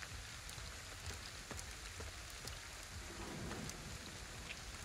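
Soft, steady patter of rain on surfaces with scattered drop taps, quiet and continuous, no voices, from the video game Ghostwire: Tokyo.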